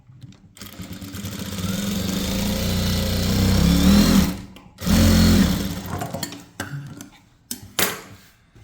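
A sewing machine stitches a lined blouse in a long, steady run of whirring, then pauses, resumes in a second run and ends in a few short bursts.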